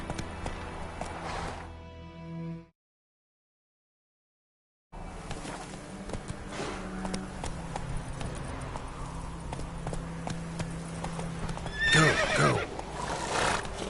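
Roach, a horse in a video game, gallops with rapid clip-clop hoofbeats and gives a loud neigh near the end, broken by a brief silent gap; a voice urges the horse on.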